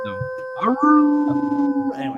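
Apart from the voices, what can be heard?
dog howling across the street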